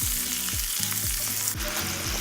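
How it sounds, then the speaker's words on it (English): Mixed vegetables sauteing in three tablespoons of melted butter for shrimp scampi, a loud close steady sizzle with repeated rhythmic stirring strokes about every half second. "So I have 3 tablespoons of butter melted here. So I'm going to saute these first so it gets a little soft."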